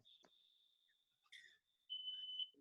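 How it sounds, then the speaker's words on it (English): A high-pitched smoke alarm beeps in a few sustained tones, fairly quiet with brief pauses and a faint noise at the end. "My mom just set off the smoke alarm."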